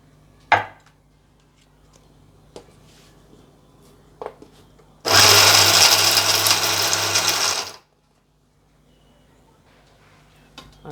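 A kitchen mixer grinder grinding whole garam masala spices roars loudly in one burst of about three seconds, framed by a few sharp knocks and clicks before it and silence after.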